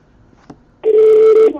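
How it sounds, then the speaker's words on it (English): A telephone sounds during a call: one loud, sustained electronic ring tone lasting just over half a second, cutting in abruptly after near-silence and a faint click. "somebody has to mute the phone"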